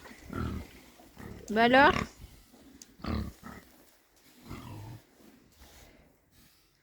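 A sow and her five piglets grunting on a farm, with several low snorts and one louder squealing grunt in between, while a person speaks briefly nearby.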